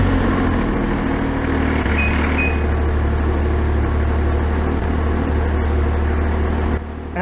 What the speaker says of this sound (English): I definitely heard the valves rattle a little bit with a lack of oil at first